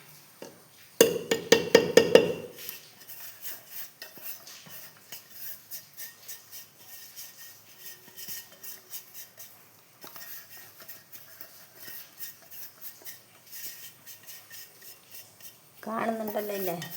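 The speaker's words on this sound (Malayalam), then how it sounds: "പഞ്ചസാരപ്പൊടി ഇട്ട് മിക്സ് ചെയ്യുക." Powdered sugar being mixed into banana biscuit batter in a bowl, with a burst of loud utensil scraping and clinking early on, then quieter intermittent stirring and faint rubbing, ending in another short clatter.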